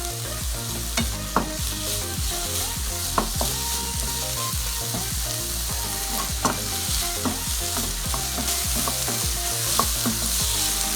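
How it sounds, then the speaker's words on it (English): Vegetables sauté over a medium flame in a pan for Mexican rice, giving a steady close sizzle with frequent sharp clicks and scrapes of stirring. A soft tonal background plays underneath throughout. "Saute them for 2 minutes. Keep the flame on medium."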